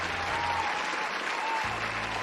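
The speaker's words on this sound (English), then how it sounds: "She begins clapping." Steady applause in a Dream Daddy video game scene, a dense unbroken patter of clapping that holds at an even level for the whole stretch, with faint music and game tones underneath.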